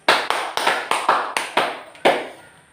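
A classroom of students claps in unison during a lesson, a set of sharp, evenly spaced handclaps about a third of a second apart, close and clear with no talk over them.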